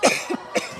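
A couple of short, sharp coughs from a person close by with a tickle in the throat, the bursts spaced a beat apart amid a volleyball game broadcast.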